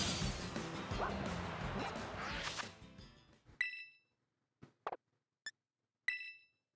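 A dog Pokémon barks at snowmen in the Pokémon Violet video game: a noisy stretch of game sound, then five short, sharp barks spaced irregularly and heard clearly alone.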